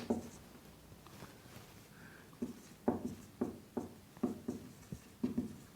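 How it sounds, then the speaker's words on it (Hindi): Chalk or marker strokes on a board during a classroom lesson, a run of short, regular scratching taps, close and fairly quiet with no talk. "और एक लिखता हूं"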